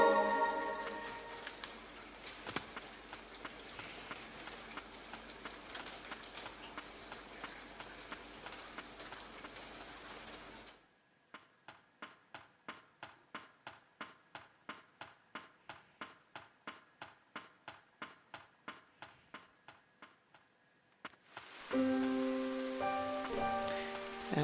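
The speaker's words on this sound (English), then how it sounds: "the rain is still going on." Steady rain falls on a surface, a dense wash of drops that drops away midway, leaving a run of regular rhythmic ticks before the full downpour returns at the end.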